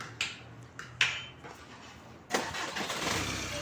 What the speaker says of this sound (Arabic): هذا الموتور تاع فورد هذا كما راكم تشوفوا